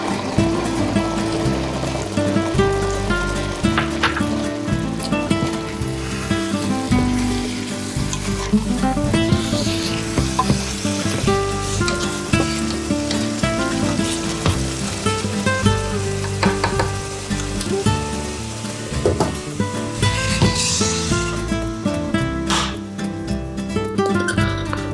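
Ground beef cooks in a pan with a continuous close sizzle and some stirring, while a steady hiss runs throughout and nobody speaks.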